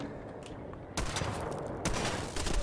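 Gunfire in the video game Fallout 4 rattles in dense, continuous volleys aimed at the player, swelling louder in two sudden surges and staying heavy throughout with no talking.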